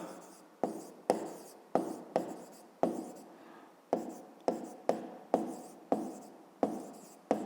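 Handwriting on paper while working a fifth-grade geometry exercise, a close series of sharp scratchy pen strokes in quick irregular bursts, about a dozen separate strokes, with no talk over them.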